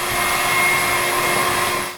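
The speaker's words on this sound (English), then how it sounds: "indoor sources of noise pollution are things like vacuum cleaner" An indoor vacuum cleaner runs with a steady, fairly loud motor whine and airy rush for about two seconds before cutting off abruptly.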